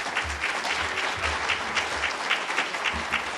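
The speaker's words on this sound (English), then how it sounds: "How about a round of applause?" A round of applause from a City Club of Chicago audience, many hands clapping in a steady, moderately loud patter that holds evenly from start to finish with no talking over it.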